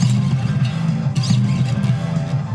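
An electric guitar plays sliding notes, pitches gliding up and down in a repeating phrase, steady and fairly loud with no voices.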